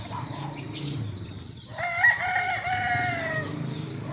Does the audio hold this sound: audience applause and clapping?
no